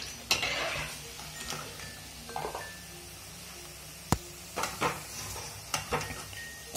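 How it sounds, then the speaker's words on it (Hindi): Vegetable Manchurian balls deep-fry in oil with a soft, continuous sizzle, broken by scattered stirring scrapes and sharp metallic clinks of a utensil against the pan. "हम इन्हें गोल्डन ब्राउन होने तक तलेंगे।"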